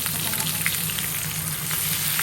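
Onions fry in a wok, a dense, even sizzle holding steady and close throughout, with no voices over it.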